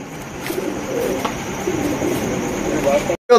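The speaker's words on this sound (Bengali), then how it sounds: "দর্শক এইখানে রয়েছে খুবই সুন্দর এক জোড়া রোমান গাল কবুতর" A pair of Roman pigeons coo softly and close by in a steady, throaty murmur, with faint voices in the background.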